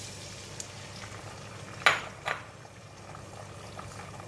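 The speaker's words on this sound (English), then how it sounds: "Next, I'm going to put in the egg." Egg frying in a hot pan for prawn fried rice, a low steady sizzle with a couple of sharp utensil clinks and a brief surge of crackle as the egg goes in, no talking.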